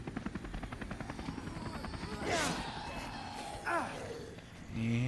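A voice imitates a helicopter with rapid, fluttering lip and throat noises that rise and fall, broken by a couple of breathy whooshes.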